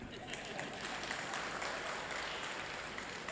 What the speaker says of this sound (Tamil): இந்த சிறிய கரவோலிக்கு மிகுந்த நன்றி.